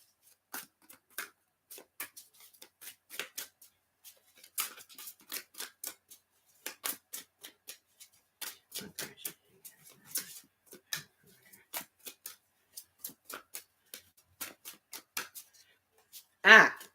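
Tarot cards being shuffled by hand, a steady run of light papery flicks and snaps repeating close by with short gaps, ending in one louder burst.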